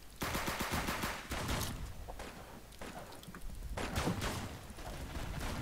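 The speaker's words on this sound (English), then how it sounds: "That's my own teammate I'm shooting." Rapid gunfire in a Roblox shooter game, bursts of overlapping shots and cracks running through most of the stretch with brief lulls, loud and close throughout.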